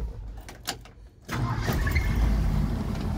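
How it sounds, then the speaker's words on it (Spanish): A 1971 Ford F100 Custom pickup cranks briefly, fires and settles into a steady, close rumbling idle. "A escuchar su motor."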